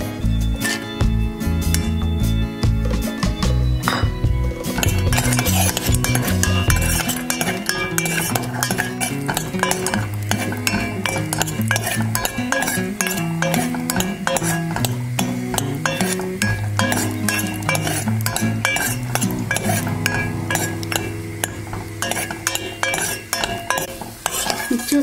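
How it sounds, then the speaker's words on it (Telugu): Cashews and almonds stirred in hot ghee in a pan, with a metal spoon scraping and clinking against the pan continuously and rhythmically, close and loud, over a faint sizzle, with no voices. "ఇప్పుడు మనం దీనిలో ఈ బాదము జీడిపప్పు ఇవి వేయించుకుందాం."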